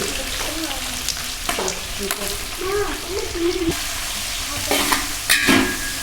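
Green chillies sizzle and fry in an oiled pan for jackfruit biryani, with metal spoon stirring and scraping in short bursts close by while a voice talks intermittently over the cooking.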